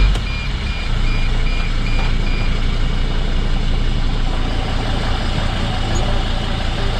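A 2006 Sprinter T1N van's engine runs steadily close by, an even mechanical drone with a faint repeating beep over it, no talking.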